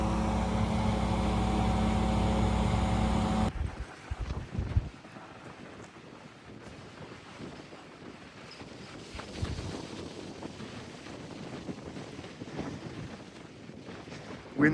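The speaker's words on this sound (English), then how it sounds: "we can hear the generators running, diesel generator" A diesel generator behind a school after a storm drones with a steady, harmonic low-pitched hum for a few seconds, then cuts away to gusty wind buffeting the microphone, with rumbling bursts and no speech.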